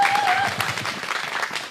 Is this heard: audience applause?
yes